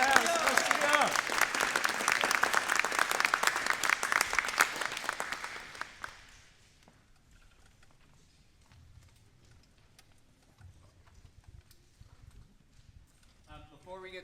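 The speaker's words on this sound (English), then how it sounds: "I really want you to join me in giving an applause to our director, Mr. Garcia." A middle school jazz band concert audience claps loudly and densely for about six seconds, then the applause drops away abruptly to a quiet room with faint scattered sounds.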